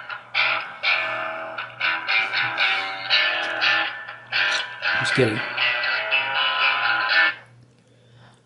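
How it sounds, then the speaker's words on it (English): Startup music from a video plays through a phone speaker (a Droid Razor), thin and steady with a constant low hum underneath, and a voice speaks briefly partway through. "my startup music on one of my videos"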